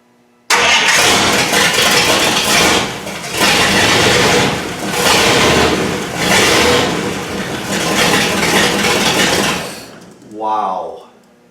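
The Project 66R engine is turned over by its starter and catches almost at once, then runs loud and close with rhythmic surges in revs for about nine seconds before cutting off, followed by a brief voice.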